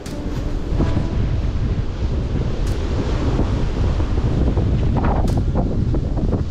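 Strong wind roars loudly and continuously on a mountain ridge on Jirisan, buffeting the microphone with a deep, steady rumble and occasional gusts.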